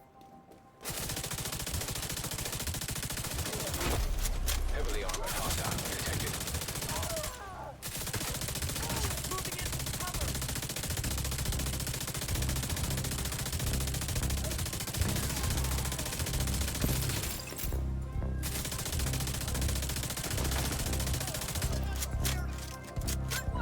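Rapid automatic gunfire rattles through a match of The Division 2, long sustained bursts with a few short pauses, heard under occasional talk.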